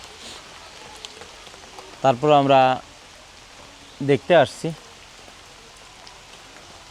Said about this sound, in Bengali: বৃষ্টির মৌসুম, টিপটিপ বৃষ্টি পড়ছে